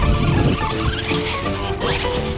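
An RC Wraith Spawn crawler truck spins its wheels through mud with the throttle mashed, giving a loud, continuous whirring motor whine mixed with wet churning and splattering.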